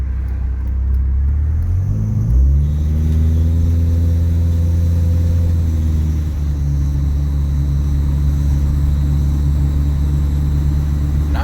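Chrysler PT Cruiser engine with Megasquirt engine management starting and running, an initial crank and catch rising into a high idle that settles to a steady, loud, close rumble without speech.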